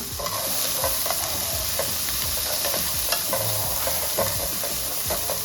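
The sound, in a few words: sautéing sweet corn in a pan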